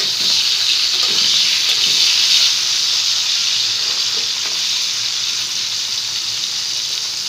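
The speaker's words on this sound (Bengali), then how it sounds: "করলাগুলো ভাজা বসালাম।" Bitter gourd frying in hot oil, a dense, even hiss that stays loud and steady for several seconds and eases slightly toward the end, with no voices.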